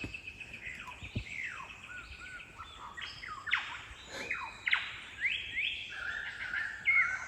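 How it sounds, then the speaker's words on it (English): A kookaburra calls in the Minnamurra Rainforest: faint, distant rising and falling squawks and chattering bursts that repeat irregularly over a quiet forest background. "Kookaburra."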